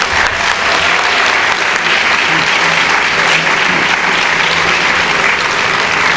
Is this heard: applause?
yes